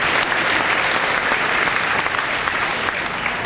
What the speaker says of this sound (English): Give a round of applause anyway.